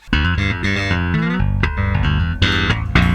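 A bass guitar plays a quick, punchy riff of rapid plucked notes with percussive slaps, loud and close with no talking.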